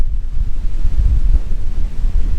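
Wind buffets the microphone beside a lake on a day hike in Glendalough State Park, Minnesota, as a loud, low, gusty rumble with no voices.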